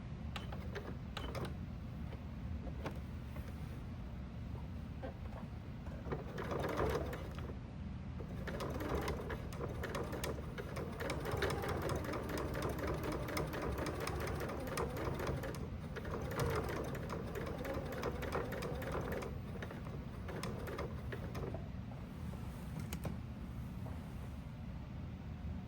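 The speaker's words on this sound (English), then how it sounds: "I need to do one more stitch" Steady mechanical whirring and ticking from a sewing machine running continuously up close as it stitches a small pocket on a messenger bag, with faint chirps in the background.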